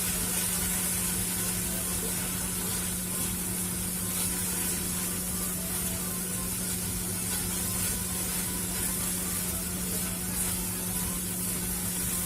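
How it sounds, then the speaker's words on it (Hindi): Tomatoes cook in a pan over a high gas flame, a steady broadband hiss and sizzle running evenly throughout with a constant low hum beneath and no talking. "मैंने गैस का फ्लेम हाई कर दिया है और ये हमारे टमाटर पक रहे हैं"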